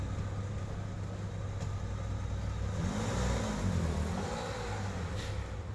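A car engine revs up briefly in the middle, rising and falling over a steady idle, fairly close and alone without talk.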